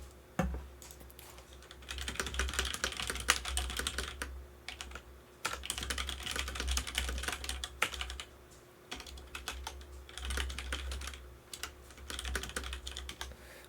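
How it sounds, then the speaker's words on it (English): Rapid clattering keystrokes on a computer keyboard come in bursts with short pauses, close and fairly quiet, with no talk over them. "my typing is so good"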